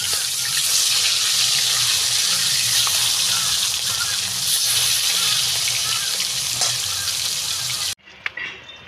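Pieces of pangas fish frying in hot oil after being turned, a loud, dense, steady sizzle that runs unbroken for about eight seconds and then stops abruptly, followed by a faint clatter.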